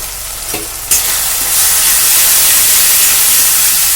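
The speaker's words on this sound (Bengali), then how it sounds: "আবার সুন্দর করে মিশিয়ে নেব" A spoon stirs turmeric and Kashmiri chilli powder into frying lentil dal made with potatoes, a couple of scrapes followed by a loud, steady sizzle and hiss close up.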